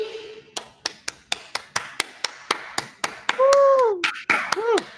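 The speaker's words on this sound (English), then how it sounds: "we can end with the clap." A group on an unmuted video call clapping together, a run of sharp, evenly spaced claps that grows denser, with voices calling out over the final claps.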